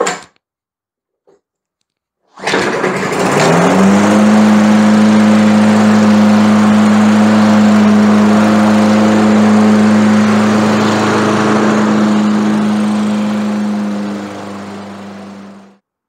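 A small lawn mower engine starts unprimed and runs at a steady, loud drone close by for over ten seconds, then cuts off.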